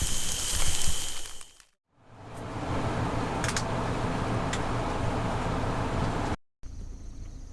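Light rain falls around a campfire in Nebraska where Axis deer burgers are cooking, making a steady, close broadband hiss that cuts out briefly twice, with no talking.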